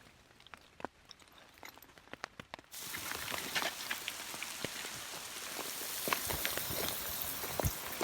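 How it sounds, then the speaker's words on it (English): Rain falling on a campsite, at first sparse drops tapping on a surface, then a sudden steady downpour hiss with continual close patters and drips. "It's raining."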